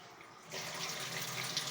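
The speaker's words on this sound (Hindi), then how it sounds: "ठंडे पानी के साथ इनको साफ़ करें हम।" Cold running water from a kitchen tap rinses food during chicken macaroni preparation, a steady hiss of flow starting abruptly after a quiet moment and continuing close and even.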